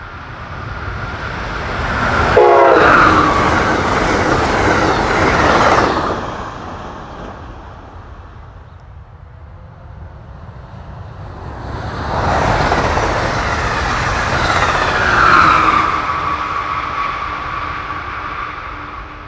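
At Salunga on the Keystone Corridor, Amtrak trains rush past in two loud, swelling passes with a quiet lull between them, and a brief horn sounds early in each pass.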